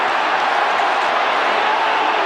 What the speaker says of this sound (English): Capacity crowd.